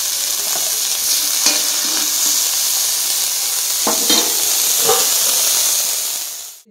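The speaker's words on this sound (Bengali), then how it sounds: "এখানে আলুর পাতাটা ভাজা হচ্ছে" Potato leaves frying in a pan, a steady close sizzle and hiss with a few sharper crackles and stirring scrapes, no voices, fading out at the end.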